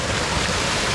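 A waterfall fed by a mountain spring along the Pamir Highway in Tajikistan, a dense steady roar of falling water heard close and loud for a brief moment.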